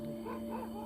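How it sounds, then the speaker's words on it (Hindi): Dogs bark in the distance near a tree at night, a brief, faint yelp over a steady background hum. "कुत्ते भौंक रहे बार बार"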